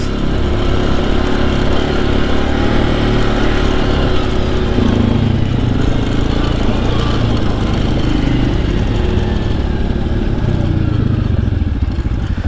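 Yamaha Grizzly ATV engine running close by, a loud, steady, rough rumble that holds constant throughout with no pauses.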